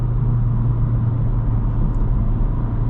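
A 2.0-litre Honda Civic Sport with a manual gearbox coasting off throttle under engine braking, giving a steady low engine drone and road rumble heard from inside the cabin, with no talk.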